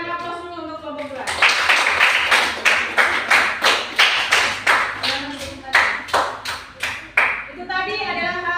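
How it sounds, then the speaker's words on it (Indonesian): A small audience at a group class presentation claps in a fast, steady rhythm of sharp, close hand claps, with talking just before and after. "aplaus dulu untuk kelompok 2"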